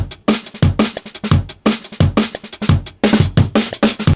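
An edited drum loop plays at its original 174 BPM, a fast, punchy breakbeat of kicks, snares and cymbals that repeats for several bars, loud and alone.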